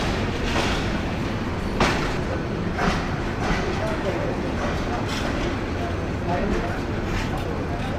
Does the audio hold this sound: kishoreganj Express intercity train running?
yes